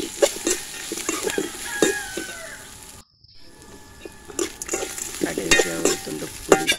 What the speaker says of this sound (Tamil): கடைசியில் நம்ம அரைச்சி வச்சுருக்க பிரண்டையும் போட்டு ஒரு பெரட்டி இறக்கி வச்சிடலாம்.